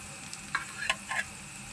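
Onion with ginger-garlic paste frying in a pan for chicken chaat, a soft sizzle with a few brief scraping stirs of a spoon.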